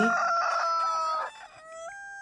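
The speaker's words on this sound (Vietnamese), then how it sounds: "hơn chục con gà mái tư Đồng loạt nghiến cổ gáy" Several hens crowing together at the back of a rural house in Vietnam, a loud, close, drawn-out chorus of overlapping calls that fades out, leaving one thinner sustained tone.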